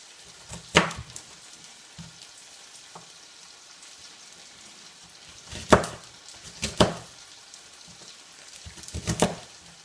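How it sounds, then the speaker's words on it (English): A knife chops through onion wedges on a board in a few quick clustered strokes, spread out between quiet pauses, crisp and close against a faint background. "Just going to chop down them like so"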